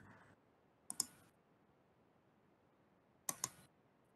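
Two pairs of quick, sharp computer mouse clicks sit close against a low steady room hum, separated by about two seconds of near quiet.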